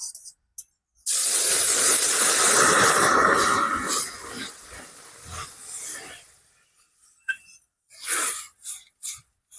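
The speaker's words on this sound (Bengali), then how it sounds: "এখন আমি জল দিয়ে দেবো" Water poured onto fried semolina in a hot pan hisses in a loud burst, then the sizzle fades and sputters out in smaller spurts.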